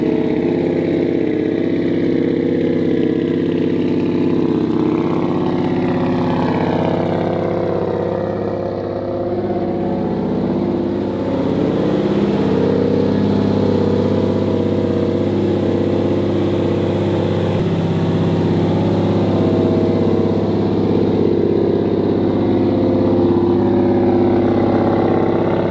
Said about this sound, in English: I'm gonna let it idle for a little bit to try to get any more bubbles out of the cooling system